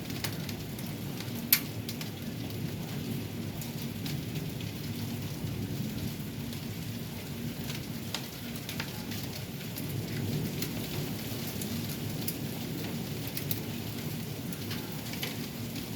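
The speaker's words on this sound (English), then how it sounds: "we're having a thunderstorm and hail and a tornado warning" A thunderstorm with hail and rain: dense, steady rain pours close by, scattered sharp hail impacts click on a door or surface, and a low rumble runs beneath, with no talking.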